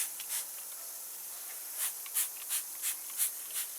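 A series of short hissing sprays from a spray bottle in jet mode while cleaning an engine bay, about six quick pumps in a loose rhythm after a quiet stretch, close and fairly soft.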